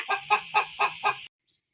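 A chicken clucking nearby in five quick, evenly spaced calls that stop abruptly, leaving silence.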